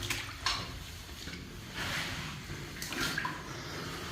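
Water trickling and splashing inside a concrete WWII twin machine gun pillbox in Northumberland, a low steady wash with a few brief louder splashes, likely footsteps through standing water, close by with no talk.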